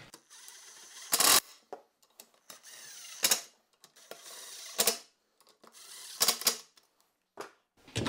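Ratcheting clicks come from a hand tool tightening bolts and nuts on a sealed intercooler fan shroud for a Can-Am X with a 10-inch, 10-blade brushless fan. They arrive as short, sharp bursts separated by quiet gaps and sound close.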